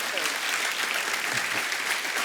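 Loud, sustained audience applause fills the whole stretch on a Hindi TV comedy talk show set, a dense steady wash of clapping from a studio crowd with no break.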